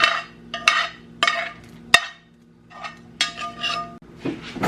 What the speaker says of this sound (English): So I'm gonna stir this in, kind of scoop by scoop.